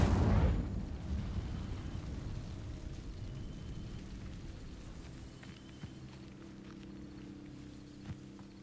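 An Incendio fire spell ignites dry vines in the video game Hogwarts Legacy, a heavy low burst that fades into a steady rumbling crackle and hum; no one speaks.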